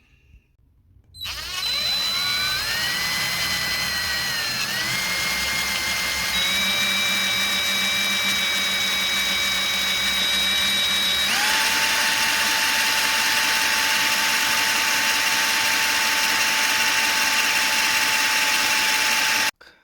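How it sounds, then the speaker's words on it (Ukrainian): A drill bores into a Mercedes W211 donor tail light circuit board, its high motor whine starting abruptly and running loud and continuous close by, pitch shifting in steps as the load changes, with no talking. "І звідси ми спробуємо ще висверлити працюючі лампочки і припаяти цю плату."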